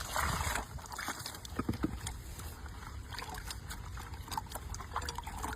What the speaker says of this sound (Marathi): आपण आता चिंच स्वच्छ पाण्याने धुवून घेऊ व्यवस्थित